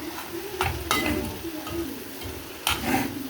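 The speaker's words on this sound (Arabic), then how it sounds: "طول ما احنا بنقلب كده عشان المكونات كلها تخش جوه بعضها" Minced meat and onions stirred in a frying pan for white pasta with minced meat, giving a steady low sizzle with a few louder scraping strokes of the spoon, close and without talk.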